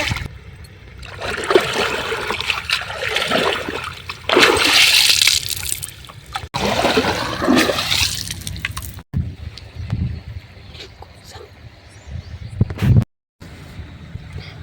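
Fresh water on a farm splashes and sloshes loudly in bursts, then quieter trickling and dripping with occasional small splashes.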